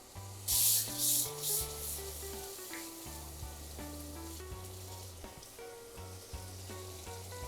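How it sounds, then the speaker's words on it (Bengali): A splash of water poured onto spices frying in a pan for a fish curry bursts into a few loud hissing sizzles early on, then settles to a softer fry beneath gentle background music. "যাতে পুড়ে না যায় একটু পানি দিয়ে দিলাম।"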